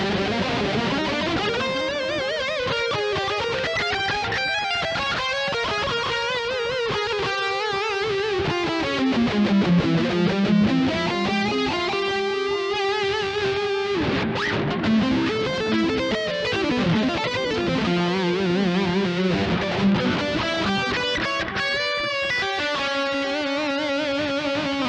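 Overdriven electric guitar lead lines played through a Synergy Bogner Uberschall high-gain preamp module with a Horizon Devices Flex Echo delay, sustained bends and fast runs ringing out loud and continuous, alone without talk.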